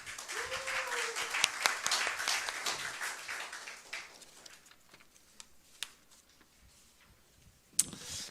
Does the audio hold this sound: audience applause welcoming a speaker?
yes